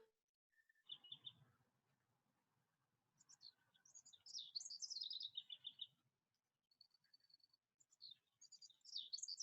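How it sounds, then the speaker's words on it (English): Several birds chirp and twitter in quick bursts in a park, overlapping high trills and tweets in a quiet outdoor setting, fairly close. "Or birds. Sounds like it's more than one. I'm in the park."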